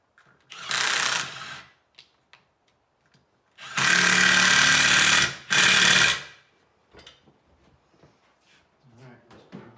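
Tool work tightening a carriage bolt on a Harbor Freight tire changer, with three loud bursts of ratcheting or driving noise, a short one and then two longer ones, separated by quiet gaps and followed by faint handling clatter.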